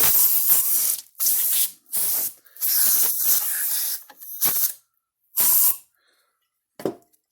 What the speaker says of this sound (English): I'm going to take a little bit of can of air.